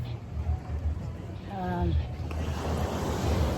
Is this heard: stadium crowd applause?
no